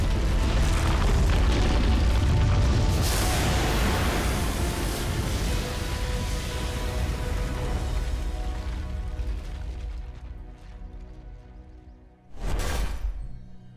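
In Dota 2, the Dire ancient is destroyed with a loud, rumbling explosion that slowly fades over several seconds, then one more sharp boom near the end.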